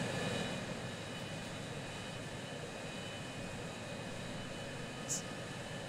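Aircraft engine hum from the video game Transport Fever as a plane comes in to land with its landing gear lowering, a steady, dense whine and rush filling the whole stretch with one brief higher blip near the end.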